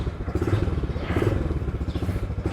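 Motorcycle engine idling steadily at the start of a road trip from Peshawar to Kohat, a close, continuous low throbbing rumble with rhythmic pulses and light mechanical clatter throughout.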